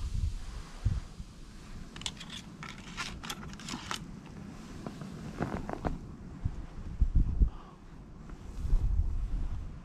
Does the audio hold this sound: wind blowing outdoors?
yes